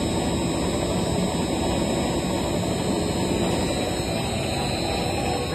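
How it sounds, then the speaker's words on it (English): A 100L explosion-proof sigma mixer runs with its blades turning in reverse, giving off a loud, steady machine drone with a broad noisy hum and constant tonal whine, unbroken throughout. "Now the blades rotating in the reverse direction."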